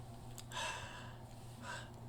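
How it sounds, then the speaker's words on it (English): Soft breaths drawn in and let out, two airy swells over a low steady hum, close and quiet. "That's me in my natural resonance breathing."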